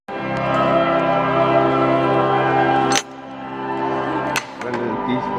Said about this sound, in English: These church bells have been ringing for 15 minutes non-stop and the ringers have not lost any energy.